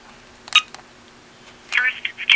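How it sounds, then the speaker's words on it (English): Touch-tone dialing beeps from an iPod Touch 4G fitted with a C Peel T188 phone accessory while calling voicemail: one short tone burst, then a quick cluster of several tones close by over quiet background hiss. "So let me just call my voicemail right now."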